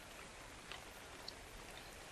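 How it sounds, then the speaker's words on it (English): Rain falls in the survival video game ARK: Survival Evolved as a faint, steady hiss of drops with a few soft patters, heard alone without voices. "Looks like we're going to have some rain here."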